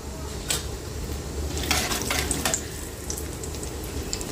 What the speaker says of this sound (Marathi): ते बघा मोहरीचे दाणे छान असे मस्त तडतडायला लागलेले आहे।